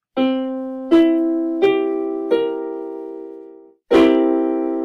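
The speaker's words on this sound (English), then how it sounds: "the next one is called a dominant 7" Dominant seventh chord struck on a keyboard in a music theory lesson, a sustained tone sounded four times in a row, then a fifth strike after a short pause, each ringing and decaying cleanly.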